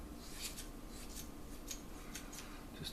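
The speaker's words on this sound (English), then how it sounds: "I go ahead and trim the edges just a little bit, which is what I use the scissors for" Scissors trimming the edges of nylon doll hair, a run of quiet crisp snips at an uneven rhythm, close by and alone.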